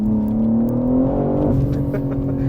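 A 2024 BMW M3 CS accelerates from close by, its engine tone climbing steadily and loud with a smooth rising whir, no talk over it.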